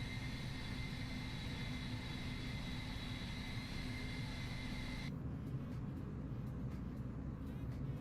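In the X-Plane 11 flight simulator, the CFM jet engines of a ToLiss A319 airliner spool up in a steady, continuous whine and rumble, the hum persisting throughout with no talking.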